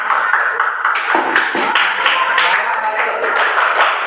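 Classroom students applauding a classmate, Mas Bagas, with a dense, continuous patter of many hands clapping close by for a few seconds.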